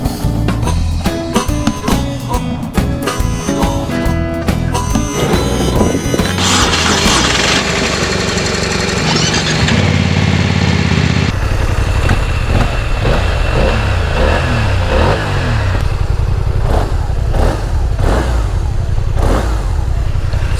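A BMW motorcycle engine revving and accelerating on a road trip, loud and continuous throughout, with a rising, pulsing roar in the second half.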